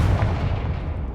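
A Confringo fire spell explodes in Hogwarts Legacy with a short, heavy, booming blast and a rumbling low-end tail that quickly decays.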